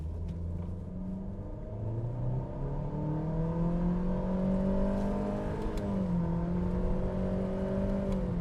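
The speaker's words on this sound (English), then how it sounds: "I promised an attempt to spin the tires" A 2021 Honda HR-V engine revs hard in an attempt to spin the tires, a steady loud rumble with rising and falling RPM tones held for several seconds, no voices.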